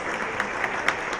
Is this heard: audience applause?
yes